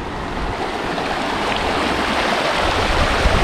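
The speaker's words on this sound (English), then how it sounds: "there's a flow of water coming downstream" Natural hot spring water flows downstream over the travertine terraces at Pamukkale in Denizli, Turkey, a steady close rush of water that fills the whole stretch with a continuous even roar and no talking.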